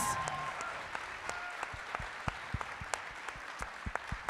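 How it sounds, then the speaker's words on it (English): Audience applause at a live rally in Philadelphia, a steady wash of clapping from a large crowd with sharp individual claps popping out near the front, sustained throughout with no talk over it. "join me in just giving great kudos and applause"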